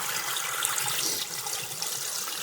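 Steady rushing and splashing water from an aquarium pump's spray bar into a 55-gallon bait tank, a continuous spray with no talk, fairly close and even in level.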